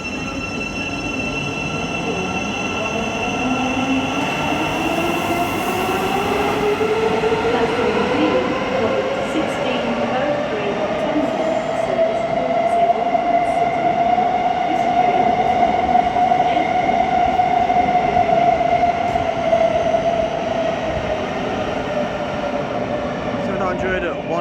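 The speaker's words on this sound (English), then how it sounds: "Over here is a Thameslink service going from Brighton to Cambridge," Thameslink train departs the low-level platforms at London St Pancras, its traction motors whining in a long rising then falling tone over steady rolling rumble and wheel noise, loud and close throughout.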